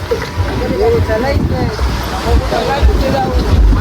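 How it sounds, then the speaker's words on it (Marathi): Ocean surf rolls and washes continuously on a beach in Goa while strong wind buffets the microphone, loud and close. "चलो चला बीच एकदम चांगला आहे"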